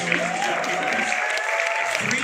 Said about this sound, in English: everyone, a round of applause for Jack